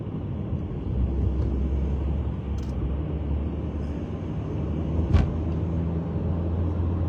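A car creeps slowly through congested traffic, heard as a steady low engine and road rumble throughout with a brief louder bump near the end and no talking.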